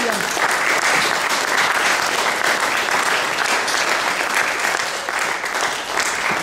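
A congregation at a French-language church service bursts into sustained, loud applause that fills the room evenly from start to finish, with a few cheers mixed in and no break in the clapping.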